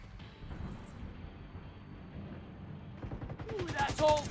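Gunfire in The Division 2 during a solo mission, a quiet rumbling mix of distant shots and battle noise, with a brief burst of sharper rapid fire near the end.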